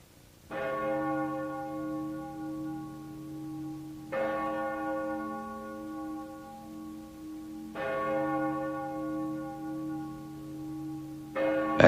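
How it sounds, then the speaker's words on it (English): A church bell tolls slowly and alone, three full strikes about four seconds apart with long ringing decays, then a fourth strike begins at the end. "the tolling of the bells announced to the lamenting people that the president had ceased to breathe"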